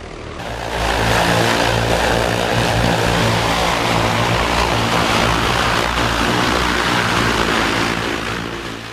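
A flying air taxi aircraft in Dubai drones in flight with a loud, steady propeller and engine roar that swells in at the start and eases slightly at the end, with no talking.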